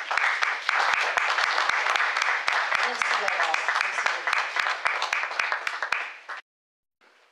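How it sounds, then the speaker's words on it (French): Sustained applause from a crowd, steady clapping for about six seconds, with someone speaking briefly over it before it stops abruptly. "je vous prierai de l'applaudir de toutes vos mains"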